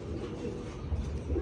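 Pigeons coo softly with low, muffled calls under a steady background hum, a few gentle notes toward the end.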